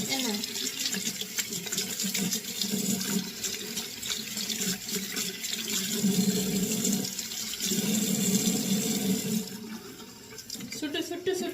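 A tap running steadily into a sink while a child washes hands, a continuous close splashing rush that shifts in level as hands move under the stream, with voices talking over it.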